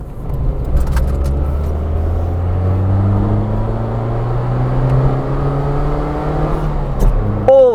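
A Fiat Uno with a 45 horsepower engine and a small exhaust blow revs hard as it pulls through a long gear, its steady rising drone loud and close from inside the car, with no voices.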